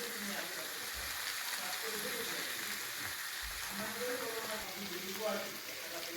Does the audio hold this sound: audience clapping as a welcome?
no